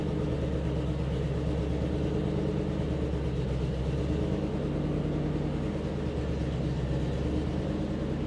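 A 1970 C10 patina pickup truck with fuel injection idles cold after starting from months of sitting, giving a steady, even, low engine rumble with a faint rhythmic pulse and no talking.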